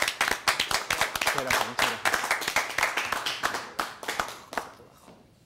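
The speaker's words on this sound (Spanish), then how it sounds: "Un aplauso para ellos, por favor." Audience applause for a band on a Spanish-language talk show: a brisk burst of individual hand claps, fairly close and rhythmic, tapering off over a few seconds while someone speaks over it.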